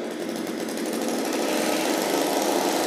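Small petrol-engine power weeder running at high revs, a loud, steady, buzzing drone as the throttle spins its blades, close and continuous without talk.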